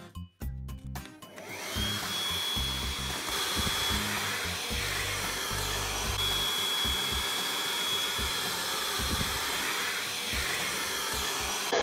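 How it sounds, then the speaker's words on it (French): A Bosch EasyVac 12 cordless vacuum with its brush attachment runs steadily, sucking up drywall dust after a brief clattering start, its motor whine loud and close and holding for the whole stretch. "Et bien on va aspirer tout ça. Et là, pour varier un peu les plaisirs, on va utiliser la brosse."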